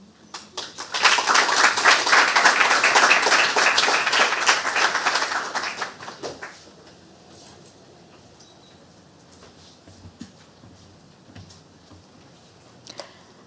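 A large audience at a Battle of the Bots robotics event breaks into dense, loud applause lasting about five seconds, then it fades to a quiet room with scattered faint noises.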